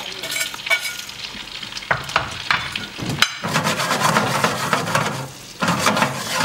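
Banana slices sizzling in a pan with vanilla extract, stirred and scraped with a few sharp knocks over a steady close fry.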